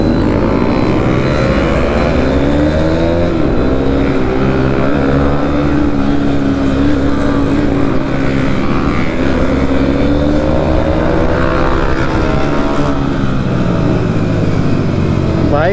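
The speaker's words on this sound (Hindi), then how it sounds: "भाई गाड़ी का जबरदस्त साउंड है भाई," A modified Bajaj Discover motorbike with a cut exhaust revs loudly and continuously, the engine note rising and falling close by on a road ride.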